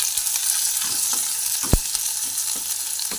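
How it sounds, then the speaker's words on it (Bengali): Chopped onions fry in hot oil and get stirred, a dense close sizzle with quick scraping strokes and one sharp clack of the spoon, no talking. "নাড়িয়ে চাড়িয়ে লাল লাল করে ভেজে তুলে নেব"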